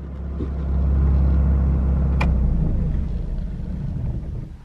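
A Fiat Cinquecento 700 fitted with a Fiat 126p carburetor idles with a steady low rumble, holding a fairly even, close engine drone throughout, with one brief sharp click midway.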